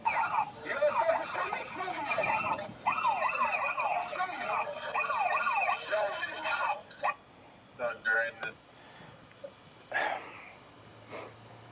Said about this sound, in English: Some security guards and security companies have a panic alarm that you'll wear on your uniform that you can trip if something like this happens.